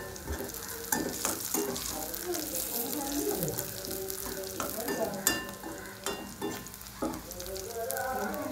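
Dried red chilies frying in hot oil in a pan for a tomato pachadi, a soft steady sizzle with scattered stirring clinks and spoon scrapes, faint and close.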